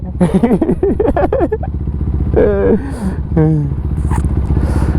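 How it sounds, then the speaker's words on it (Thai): GR200R motorcycle being ridden, its engine revving up and down in quick rising pulls that climb in pitch, close and loud, with a short pause between bursts. "เดี๋ยวผมผมมาลองขี่ GR 200R ครับ"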